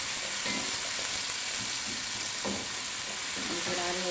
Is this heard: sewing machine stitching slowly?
no